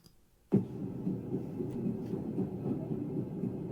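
A train rolls across the Crimean Bridge in news footage. It starts abruptly as a low, steady rumble that keeps on without letting up, and no one speaks over it.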